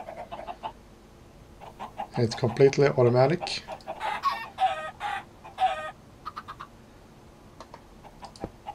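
Minecraft chickens cluck in short bursts from an automatic chicken cooker, someone speaking briefly at the end.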